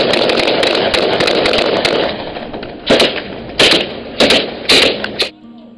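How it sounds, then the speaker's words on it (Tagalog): Loud bursts of gunfire crackle in rapid volleys between pirates and ship security, then several separate sharp bursts follow in quick succession, close and harsh. "Nagpalitan ng matinding putukan ang dalawang panig"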